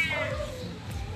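A pet cat meows, a drawn-out rising and falling cry close by, heard at home over a low murmur of background noise.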